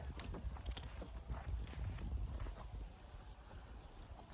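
A horse's hooves clip-clop steadily at close range as it shifts and moves beside a step-up box, with dense, continuous footfalls throughout.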